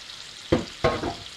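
Beef is seared in a hot pan, with two sudden bursts of sizzling about a third of a second apart, each fading quickly, close and fairly quiet.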